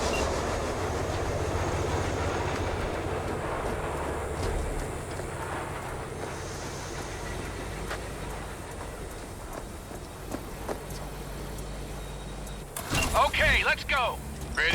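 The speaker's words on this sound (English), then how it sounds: "All right, the train's leaving." A train in the video game Cyberpunk 2077 rumbles steadily as it pulls away, a continuous low drone that fades toward the end before a brief burst of other game sound.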